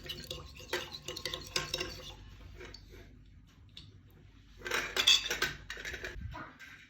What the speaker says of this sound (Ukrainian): Все добре перемішуємо.